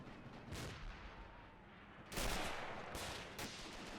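Gunfire in a Battle of the Bulge video game battle: distant rumbling shots and bursts echo faintly against background ambience, with a louder volley near the middle and scattered shots after.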